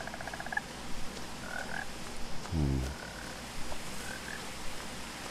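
Frogs croak in the video game What Remains of Edith Finch: a few faint scattered croaks, then one louder, close, rolling croak in the middle, with no talking.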